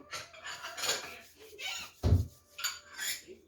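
Dishes and cutlery clink and clatter in a few short bursts, with one louder knock of a plate being set down nearby.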